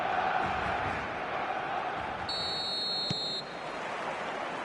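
A referee's whistle at kickoff in the eFootball video game sounds as one sharp, mid-length blast over a steady roar of stadium crowd noise.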